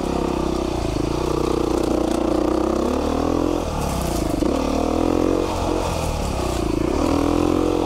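A Beta 390RR Race Edition four-stroke dirt bike engine revs loudly and continuously close by at night, rising and falling in pitch with rattling clatter throughout.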